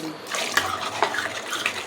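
Water splashes and trickles into a pot in a short, close pour, with a few brighter splashy accents.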